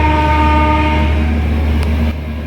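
A train passing on an Indian railway line, heard from aboard the Lucknow–New Delhi AC Superfast in heavy fog: a loud steady horn blast over rumbling wheels, cutting off near the end.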